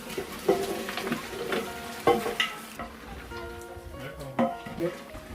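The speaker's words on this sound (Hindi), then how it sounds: "सबसे पहले गोश्त इसमें डाल दिया मैंने भूनने के लिए।" Mutton pieces frying in oil with onion and tomato in a large pot for a 20-kilo mutton pulao, giving a steady sizzle with scattered stirring clanks and scrapes, close up.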